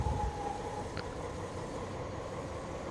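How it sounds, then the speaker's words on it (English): A simulated passenger train slows on approach to Newport station on the South Wales Coastal Route in Train Simulator 2017, giving a low, steady engine and rail rumble with a faint brief tone, no talking. "Come on, train, slow down."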